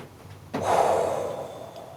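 A heavy exhale through the nose and mouth while holding a yoga pose, one sudden breathy rush up close that trails off slowly, with no talking.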